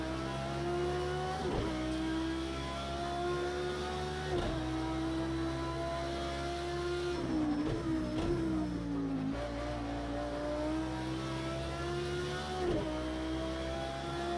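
Audi LMS endurance race car in Project CARS 2 at Bathurst, engine revving loudly and steadily throughout, with pitch climbing and dropping through several gear shifts.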